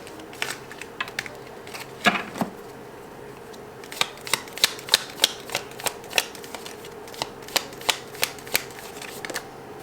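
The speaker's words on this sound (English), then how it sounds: "I'm gonna shuffle one more time." Oracle cards are shuffled close up in a series of crisp riffling bursts, quick snapping flutters repeating in an irregular rhythm with short pauses between.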